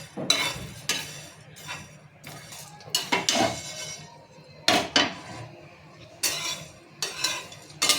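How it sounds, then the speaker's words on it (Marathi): Sesame, cumin and coriander seeds dry roasting in a pan, stirred with a metal utensil that scrapes and clinks against the pan in irregular bursts, with a faint sizzle between them. "यामध्येच मी तीळ जिरं आणि धने हे टाकून भाजून घेते"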